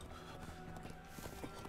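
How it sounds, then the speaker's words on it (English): Horse in an anime episode, a short burst of light hoof clip-clops in a quick uneven rhythm, moderately close, with a soft background bed and no talk. "Oh, a horse? A horsey."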